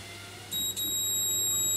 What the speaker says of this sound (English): that beeps and it reads 31 on the meter